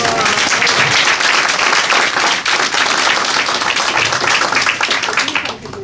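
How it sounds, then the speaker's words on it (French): A comedy show audience claps loudly and steadily, a dense wash of clapping that holds for about six seconds. Crowd voices mix in beneath it. "Il n'y a eu que des femmes qui ont applaudi"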